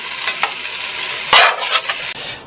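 Food being stirred in a pan over a campfire, a seasoned mix with pepper and onion powder, giving close, bright scraping and sizzling strokes in quick irregular bursts.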